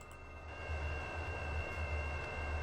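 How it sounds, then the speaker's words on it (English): A train runs in the Transport Fever railway simulation game, with a low steady rumble and a faint tonal hum throughout, quiet and without voices. "There's the train."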